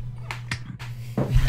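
During a tabletop roleplaying game session, one person gives a slow, mocking clap: a few sharp, isolated hand claps spaced by pauses over a faint background hum.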